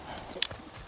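Hooves of a small horse thud a few times on the ground during bareback jumping, brief muffled steps within outdoor noise.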